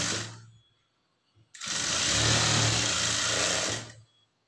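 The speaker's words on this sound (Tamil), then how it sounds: "அரை இன்ச் அளவுக்கு தையல் போட்டுக்குங்க" A sewing machine runs steadily for about two and a half seconds, stitching a half-inch seam on a blouse lining, close and fairly loud with a dense even whir; it starts abruptly after a short pause and stops cleanly.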